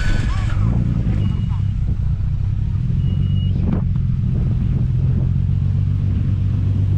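Car engine idling after a titanium downpipe upgrade, a loud, steady low rumble close by throughout, with someone talking over it.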